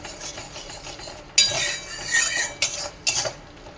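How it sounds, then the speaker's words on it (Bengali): Besan roasting with masala in a pan, stirred with a metal spoon: close, steady scraping and rubbing strokes with a few sharper clinks against the pan, no voices. "এর মধ্যেই ভালো করে কষে নেব বেসনটা"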